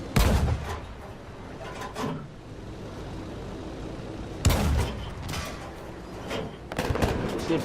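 Slow, heavy cannon fire from a JU-88 C aircraft in Battlefield 5: a few loud, widely spaced booming shots with engine rumble between them and no talk.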